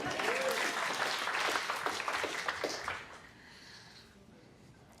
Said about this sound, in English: A little round of applause for all three of them.